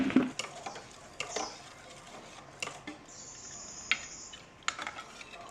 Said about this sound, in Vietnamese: Và mình sẽ tiếp tục khuấy